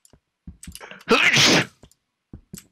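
One loud, close sneeze bursts out sharply between soft shuffling and brief noises in a room during a gaming session.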